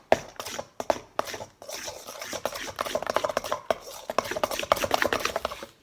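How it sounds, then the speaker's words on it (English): Glue being stirred in a bowl for Valentine's Day slime, a run of close, irregular scraping and tapping strokes, loud and busy, with no talking. "So just stir the bowl. Just stir the glue."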